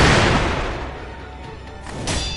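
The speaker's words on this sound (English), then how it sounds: "Firecrackers." Great Shinobi Owl's firecrackers in the game Sekiro at Ashina Castle: a loud, dense burst of crackling pops at the start that thins out, then a second crackling flare near the end.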